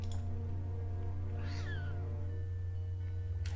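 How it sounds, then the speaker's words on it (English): A demon cat in a dark occult video game gives a single drawn-out meow midway, set over a steady low hum of background music with no talking. "Be careful with that demon cat."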